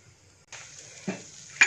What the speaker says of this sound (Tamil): முந்திரி பருப்பு வறுப்படட்டும்.